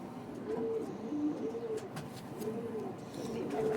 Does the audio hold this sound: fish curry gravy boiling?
no